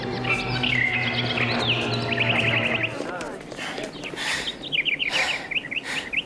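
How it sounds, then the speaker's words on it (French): Birds chirp and tweet in quick trills over a busy background with a low hum early on, fairly faint and somewhat distant. "Vous entendez les oiseaux?"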